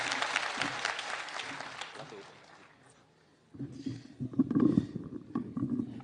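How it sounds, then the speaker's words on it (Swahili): Applause and cheering from a crowd at an outdoor political campaign rally in Kilgoris, Kenya, fading to near quiet midway before a voice and crowd noise rise again. "Pigie makofi."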